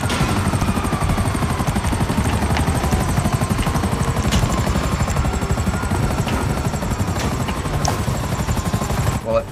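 Loud, steady rotor thumping of a helicopter close by in GTA V, with scattered sharp gunfire pops over the drone.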